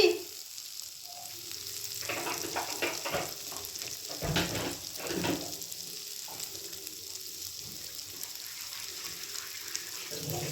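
A little water poured into a hot frying pan after two bata fish have been fried, giving a steady sizzle and bubbling with occasional stirring clatter, close and moderately loud, no talking.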